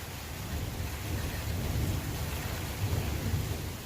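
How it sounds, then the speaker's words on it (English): Heavy rain pours steadily in Las Vegas, a dense continuous wash of rainfall with low rolling thunder rumbling underneath throughout. "It's raining really hard now."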